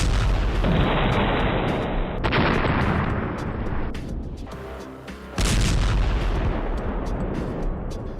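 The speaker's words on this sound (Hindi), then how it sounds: "हमास के लड़ाके इजरायल के उस बुलडोजर को धमाके से उड़ा रहे हैं" Loud, dense blasts and rumbling bursts, like explosions and heavy fire, roar continuously with a sharp jolt partway through, as an Israeli bulldozer is blown up by Hamas fighters.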